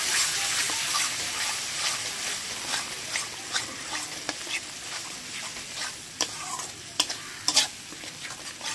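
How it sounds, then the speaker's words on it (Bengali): A spoon stirs yogurt into a katla fish curry in a pan, giving close, steady scraping and sloshing over a soft sizzle, with a few sharper clinks near the end. "দই দিয়ে নাড়িয়ে দেবো।"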